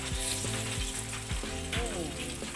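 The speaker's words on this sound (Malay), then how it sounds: "kita goreng sampai habis ya guys ya" Spiced crispy cheese-coated chicken fries in hot oil with a dense, close sizzle, broken by soft recurring low knocks as the pieces are stirred.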